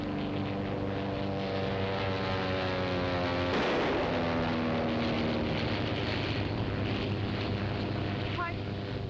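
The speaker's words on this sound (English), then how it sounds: "He's flying right by here." An airplane flies by overhead as a steady loud engine drone with strong harmonic tones, which shift sharply in pitch midway as it passes, over constant wind-like noise, in a 1930s drama setting.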